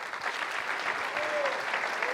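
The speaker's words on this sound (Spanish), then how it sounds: "muy fuerte el aplauso para los 4 candidatos que participaron de este evento" Sustained, dense clapping from an audience at a political event honoring four candidates, a steady wash of applause filling the whole stretch with no pause.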